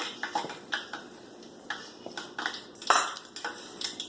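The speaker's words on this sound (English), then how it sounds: "now we're going to mix this together in the bowl" Utensil scraping and clinking in a bowl while dry ingredients with cinnamon and nutmeg are stirred together, a quiet run of irregular taps and scrapes close by with no talking.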